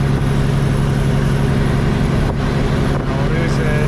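A Peterbilt truck with a failing fuel supply runs steadily at about 1400 RPM, a loud, constant low diesel drone close by with no pauses.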